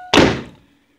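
A front door swings shut with a single solid thunk that rings out and fades within about half a second, loud and close.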